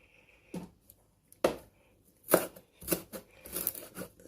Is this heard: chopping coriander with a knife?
yes